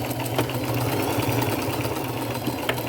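Sewing machine zigzag stitching lace onto a chenille robe, a steady fast mechanical whirring hum with a rapid needle rhythm, close and continuous until it stops abruptly at the end.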